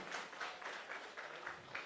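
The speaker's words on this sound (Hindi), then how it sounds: "जोरदार ताली।" An audience applauds at a party induction ceremony and press conference in Patna, with faint, distant clapping in a steady patter that has slight surges throughout.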